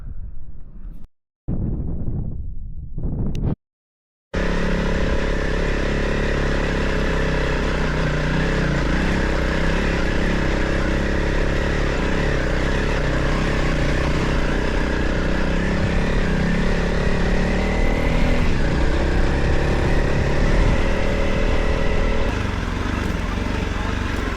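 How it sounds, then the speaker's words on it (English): Honda CRF 300 Rally motorcycle, heavily loaded, creeping down a rocky trail in first gear; a steady close engine drone with wind buffeting runs continuously after a brief broken start. "Quite a rocky descent down here. Just thought I'd keep the speed down, do it in first gear because there's a lot of weight on this bike."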